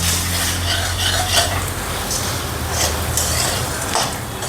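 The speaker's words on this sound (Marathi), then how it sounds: "आता आपण मुरमुरे भाजत आहे, त्याला थोडीशी हळद टाकू" Puffed rice roasting with turmeric in a pan for a thin poha chivda, a steady dry rustling sizzle with occasional scraping as it is stirred, close and even throughout, with no talking.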